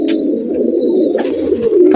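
Continuous low cooing of teddy pigeons fills the clip, a dense throaty murmur close by with faint chirps above it.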